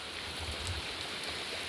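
Spring rain falling in a steady, soft hiss, faint and even throughout with no speech or other sounds.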